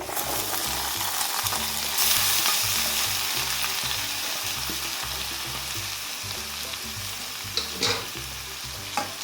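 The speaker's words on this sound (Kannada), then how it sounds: "ಇದನ್ನ ನೀಟಾಗಿ ಈ ಥರ ಫ್ರೈ ಮಾಡ್ತೀವಿ" Food fries in a pan with a constant loud sizzle, punctuated by rhythmic scraping stir strokes and a few sharper clinks toward the end.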